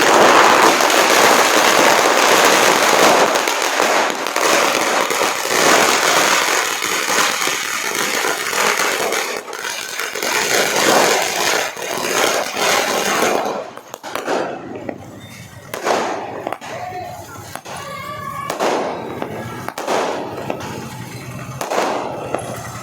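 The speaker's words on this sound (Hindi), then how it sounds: "उनके घर के पास ही जश्न मनाया जा रहा है और पटाखे फोड़े जा रहे हैं" Firecrackers set off at a party's election victory celebration in Jamshedpur, a dense crackling barrage of rapid pops that later thins into scattered louder bangs, with crowd noise and voices underneath.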